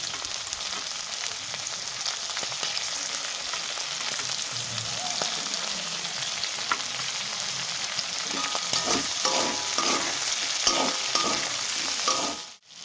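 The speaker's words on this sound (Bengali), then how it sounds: "তো এরপর এর ভিতরে দিয়ে দেবো পেঁয়াজ কুচি আর টমেটো কুচি।" Chopped onion and tomato fry in a pan with a steady close sizzle, and rhythmic stirring scrapes grow busier toward the end.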